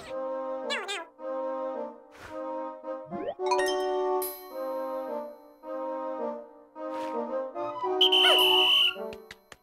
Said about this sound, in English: Blow your whistle, and your Pikmin will gather and follow you.